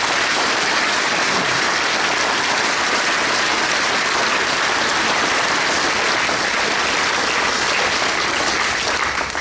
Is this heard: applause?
yes